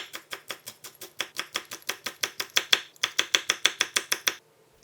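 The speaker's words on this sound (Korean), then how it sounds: "청양고추 작은 거 한 개는 얇게 썰어" A knife slices a small Cheongyang chili pepper thinly on a cutting board, giving a steady run of about twenty crisp, evenly spaced chops that are close and distinct, with a brief pause near the end before the cutting stops.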